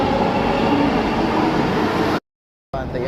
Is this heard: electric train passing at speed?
yes